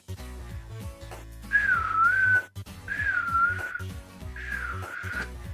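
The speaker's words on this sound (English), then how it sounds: "And then the whistling begins." Eerie, wavering whistling in three drawn-out phrases, each rising and falling, played loud over a low droning background during a fantasy tabletop game session.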